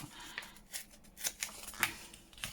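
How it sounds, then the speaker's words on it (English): Paper being torn in short rips for a junk journal collage, several brief crisp tearing bursts spaced over a couple of seconds, close and fairly quiet with no talking. "So let me just tiny rip it."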